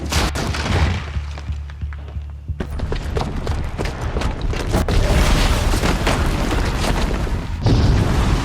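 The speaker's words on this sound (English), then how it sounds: "the booby trap on the bomb downstairs is gonna get set off" In Horizon Zero Dawn, a booby-trapped bomb goes off as a loud, heavy blast that rolls into sustained rumbling, crackling debris and continuing chaotic combat noise that stays dense throughout.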